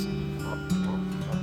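A dog on a koi hatchery farm gives a couple of short yips and whimpering barks, fairly close, mixed with a person's voice talking over it.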